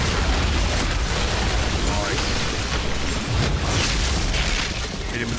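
Explosions from a thrown bomb in the Outriders shooter game, with dense, loud booming and crackling combat noise sustained throughout.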